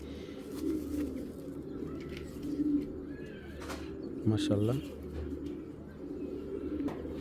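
Kachbhanga line Giribaj pigeons, including a hen, give soft, low cooing calls, with one clearer burst near the middle, set against a steady murmur of close voices and background hum.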